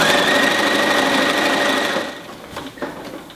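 A sewing machine stitches binding onto a quilt in a steady, close, buzzing run for about two seconds, then stops, leaving a few soft handling clicks.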